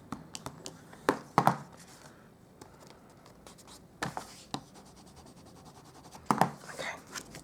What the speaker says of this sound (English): I'll just give this another little burnish